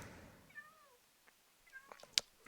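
Cats in Minecraft give a couple of soft, drawn-out meows against quiet game background, followed by a brief sharp click.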